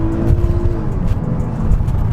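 Mercedes SL350 engine humming low and steady from inside the cabin while driving, a smooth continuous drone with a brief higher tone near the start.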